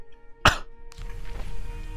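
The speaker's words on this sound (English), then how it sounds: "I'm coughing." A single sharp, close cough bursts out once, followed by faint breathy shuffling and a low background hum in a volcano level of Shadow of the Tomb Raider.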